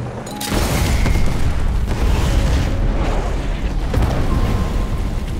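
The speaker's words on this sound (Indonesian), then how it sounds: "Mobil-mobil mereka pun langsung meledak menginjak ranjau." Cars set off landmines in the action film Rambo: Last Blood, a heavy booming blast rolling into a sustained roar of explosions and debris, loud and close, with further rumbling bursts following.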